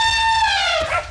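A cartoon dog gives a single drawn-out, whining yelp as an elephant flees in an animated chase scene, bright and close with no voices over it.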